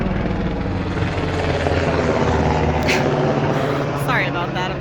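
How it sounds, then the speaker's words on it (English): A helicopter flies overhead above a vegetable garden, a loud steady rotor drone that fills the whole stretch while a person talks briefly over it. "And then there's a helicopter."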